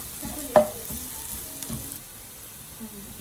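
Pancit frying in a pan while being stirred toward golden brown, with a faint steady sizzle under a few scraping utensil strokes and one sharper clank near the start.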